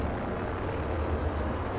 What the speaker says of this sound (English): You hear that? There's a care package coming down.